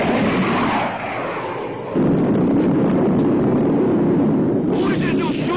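A roaring, rushing missile-launch effect from a 1954 science-fiction space serial surges up partway through and holds, loud and broadband, with voices faintly underneath.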